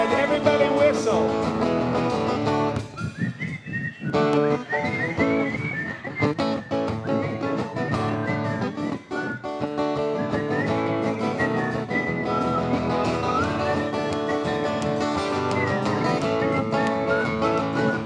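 Live cabaret crowd whistling along to a song, a bright whistled melody riding over loud full-band music and singing, sustained through the passage.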